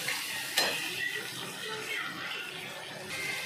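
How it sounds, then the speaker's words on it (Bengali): Ginger and garlic masala fries with salt in a pan for butter masala, giving a faint, steady sizzle with a brief scrape of stirring early on. "সব একসঙ্গে আমি বেশ লাল লাল করে ভেজে নেব।"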